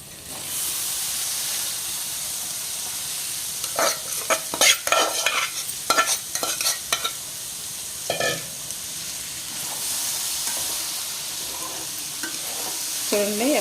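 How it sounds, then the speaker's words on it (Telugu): Carrot and coconut fry stirred in a hot pan, a steady sizzle and hiss running throughout, broken by bursts of spoon or spatula scraping and clattering against the pan, close and moderately loud. "మొత్తం కలుపుకోవాలి చక్కగా ఇలాగా"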